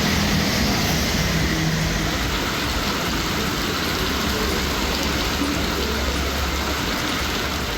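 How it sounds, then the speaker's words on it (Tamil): Moderate rain falls around Tambaram near Chennai, a steady, even hiss of drops that continues unbroken without gaps or voices. "சென்னையை அடுத்த தாம்பரம் சுற்றுவட்டாரத்தில் மிதமான மழை பொழிந்தது"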